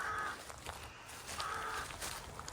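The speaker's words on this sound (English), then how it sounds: "And you can probably hear the bird activity" Faint crows caw a few times in the distance over a soft, breezy garden background at a cottage in Ashbury, Oxfordshire.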